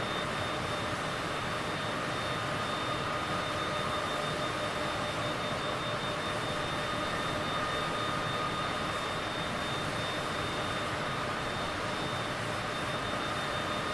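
Steady aircraft engine drone at cruising power in Microsoft Flight Simulator, a continuous broadband roar with a faint high whine, unchanging and loud throughout with no talking.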